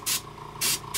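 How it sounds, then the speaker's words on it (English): Two short bursts of spray paint hiss from an aerosol can, laying metallic blue onto a Nike Air Force 1 sneaker, each burst sharp and close, separated by a brief pause and followed by the start of a third. "So I'm gonna keep spraying a little bit."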